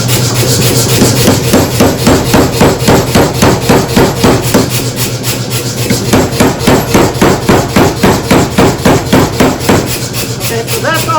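A blacksmith's hammer strikes hot metal on an anvil in a steady, loud, rapid rhythm of evenly spaced ringing blows that continue without pause throughout.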